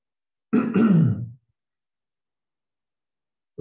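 A single short throat-clearing cough, close and fairly loud, followed by silence.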